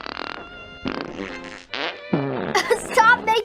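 A person imitates a fart with a series of buzzing, sputtering mouth noises, short irregular bursts that grow louder and more chaotic toward the end.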